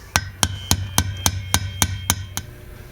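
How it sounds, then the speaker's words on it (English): A hammer drives a pin in with nine sharp metallic taps at an even, quick rhythm, close and clear, with no voices. "you just want to slightly hold that in there, and then hammer the pin in."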